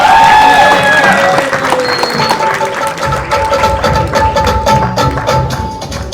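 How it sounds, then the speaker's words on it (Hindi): Loud, sustained applause from a large audience at a film trailer launch event, a dense wall of clapping with faint crowd murmur and some ringing tones in the background. "उत्कर्ष शर्मा के लिए एक बार जोरदार ताली चाहिए।"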